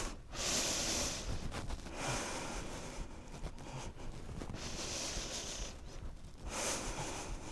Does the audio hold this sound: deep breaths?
yes